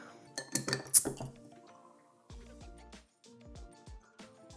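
Beer bottles of kveik pale ale are opened and handled with clear glassy clinks and clatter near the start, followed by several softer knocks and small glass taps spaced across the rest, close and fairly quiet.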